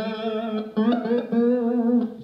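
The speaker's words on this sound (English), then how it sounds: "Then the pickup which is nearest to the fingerboard has a much more mellow sound because it's picking up less of the harmonics" A mellow, rounded electric guitar tone from the neck pickup, with a strong fundamental and few bright harmonics, heard alone as a few sustained notes over about two seconds.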